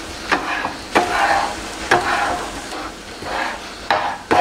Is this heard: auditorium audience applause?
no